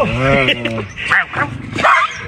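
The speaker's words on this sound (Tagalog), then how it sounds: "Ayusin mo yung mga aso mo." Several dogs bark and yip in short, close bursts, with people talking over them throughout.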